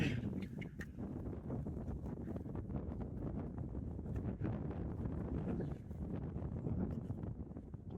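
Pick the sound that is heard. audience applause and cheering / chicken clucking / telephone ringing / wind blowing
wind blowing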